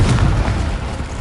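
A Confringo blasting spell bursting in Hogwarts Legacy, a single loud, deep boom with a rumbling, broadband tail that stays heavy for about a second, alone with no talk.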